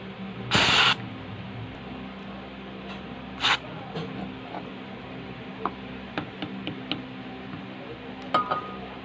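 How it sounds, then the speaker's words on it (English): A short hissing burst of aerosol contact cleaner sprayed onto a Tamiya Mini 4WD motor, then a second brief puff, followed by small scattered clicks and ticks in a quiet room. "lubricant or contact cleaner. So I'm just gonna spray some."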